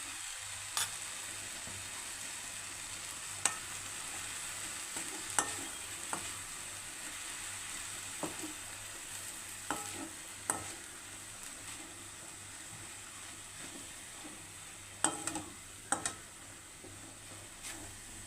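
Turmeric, chilli and pepper powders fry in a pan for a prawn dish, giving a soft continuous sizzle with occasional sharp scrapes and taps of a stirring spoon.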